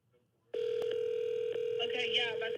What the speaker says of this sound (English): Why is the phone ringing still?